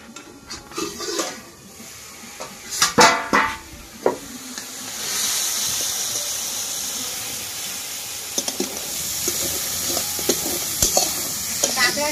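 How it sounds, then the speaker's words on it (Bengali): Crabs sizzle and fry in a pan while being stirred, with repeated scraping and clattering of a utensil against the pan over a steady frying hiss that grows louder partway through, with no talking. "এই যে কাঁকড়াগুলো এবার দিয়ে দেবো।"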